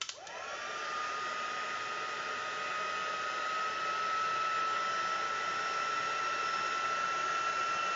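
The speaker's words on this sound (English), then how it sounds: "I'm going to heat it with my heat gun, and that will turn this heat and stick powder into glue" A heat gun runs steadily for the whole stretch while melting heat-and-stick embossing powder on a mixed media craft piece, a close, constant high-pitched blowing whine that starts abruptly and holds without pause.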